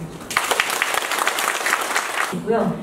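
An assembled crowd at a founding general meeting of a committee in Sejong claps vigorously, a dense patter of applause with voices mixed in that fades out at the end.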